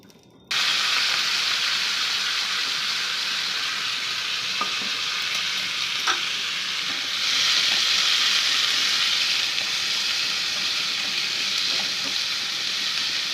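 Salted, turmeric-coated bitter gourd and potato hit the oil in a kadai with a sudden loud sizzle that holds steady and swells slightly partway through, close and alone with no talking.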